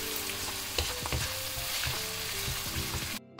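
Onions frying with salt in a pan, a loud close continuous sizzle with a few stirring scrapes, cutting off abruptly at the end.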